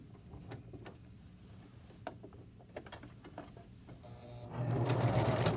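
A sewing machine stitches a pillowcase in soft, uneven bursts of ticking needle strokes, then runs faster and louder in a final close, steady whir.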